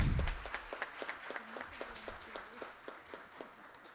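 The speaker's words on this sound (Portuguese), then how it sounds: "Uma salva de palmas também para Juliana Perim." Sparse applause for Juliana Perim at a formal merit-diploma ceremony, scattered claps thinning out over a few seconds with a faint voice underneath.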